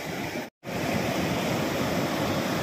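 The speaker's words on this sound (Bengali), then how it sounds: "এই দেখো ঢেউগুলো আসছে আর আছড়ে পড়ছে" Sea waves breaking on the shore at Puri, a loud continuous wash of surf with a brief dropout near the start and no voices.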